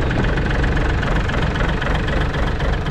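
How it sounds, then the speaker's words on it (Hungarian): A small tractor engine idles steadily and loudly at close range while starting work for a POSCH 16T log splitter. The engine runs with a continuous mechanical rumble and no break and no talking over it. "be kell indítani a kis traktort, amit mindjárt meg is teszünk"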